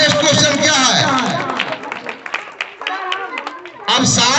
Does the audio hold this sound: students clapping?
yes